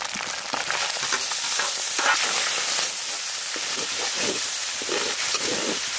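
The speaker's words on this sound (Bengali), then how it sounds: "চিকেন ভাজে নিছি, ওই তেলেই আমরা চিকেনটা রান্না করব।" Chicken sizzles in hot oil with ginger-garlic paste, green chilli paste and tomato in a village kitchen, a steady, close crackling hiss with occasional stirring and no voices.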